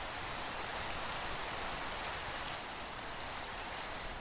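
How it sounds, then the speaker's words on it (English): Steady rain in Minecraft pours evenly throughout, a constant soft hiss of falling water with no talking or other sounds. "It's still raining, which really sucks."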